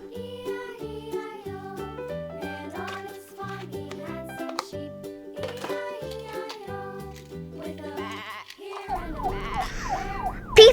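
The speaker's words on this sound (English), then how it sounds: "P for police car." Electronic toy police car siren, a looping chiming melody of repeated bright tones followed by a rising and falling wail near the end, close and fairly loud.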